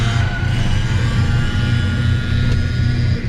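A Nissan GTR accelerating down a drag strip, a loud, steady, close engine roar with a constant low drone and no speech.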